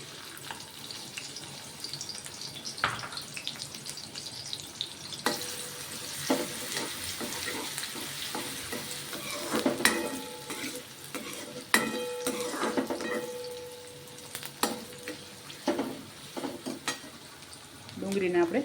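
Onions sizzle as they fry in hot tempering oil in a pan, under a steady frying hiss broken by repeated scrapes and clinks of a spoon stirring against the metal.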